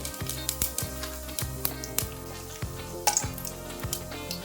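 Mustard seeds and cumin crackling in hot oil in a pressure cooker, a dense close sizzle with sharp pops and spits, joined by a repeating low rhythmic hum or beat underneath.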